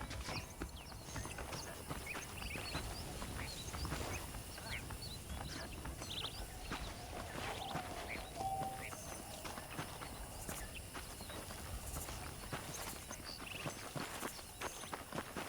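Horse hooves clip-clopping at a steady walking rhythm while being ridden in Red Dead Redemption, outdoors with faint birdsong and ambient background, hoofbeats continuous and moderately close.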